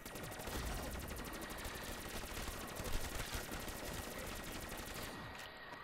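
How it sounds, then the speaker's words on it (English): Rapid, loud automatic gunfire blasting zombies on the Cosmodrome map in Call of Duty: Black Ops III, a near-continuous rattling stream of shots that cuts off near the end. "I was just shooting the floor because them legs was freaking out."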